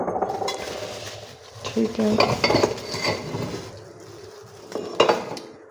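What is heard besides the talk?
newly bought dishes and glasses clinking while handled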